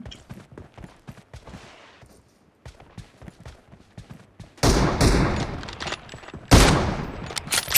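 Rapid bursts of gunfire from the battle royale game PUBG Mobile in a 2v2 M24 versus Kar98 sniper match: scattered sharp shots early, then two loud, dense volleys near the end, with no talk in between.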